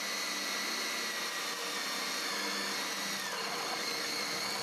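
A steady, high-pitched grinding whine of a GEKKOU cobalt drill bit boring through metal, loud and continuous without pause.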